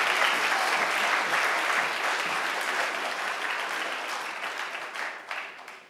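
Audience applause at a political party founding event, a sustained, loud round of clapping that slowly thins and fades toward the end.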